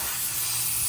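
An HVLP spray gun sprays acetone while being cleaned out, giving a steady, close, loud hiss of air and spray lasting under a second.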